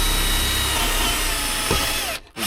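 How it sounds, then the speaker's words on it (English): A power drill drilling holes into new units in a VW Transporter T6 camper conversion whines loudly and continuously close by, then cuts out abruptly near the end. "he's just decided to take a drill to my brand new units"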